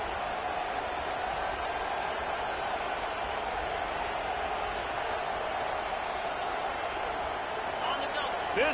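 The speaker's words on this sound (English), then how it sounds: "This crowd bringing the energy and noise early." Stadium crowd noise fills an NCAA 25 college football video game, a steady dense roar at moderate level under a commentator's voice.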